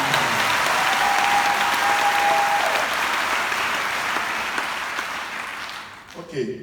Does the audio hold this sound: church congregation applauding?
yes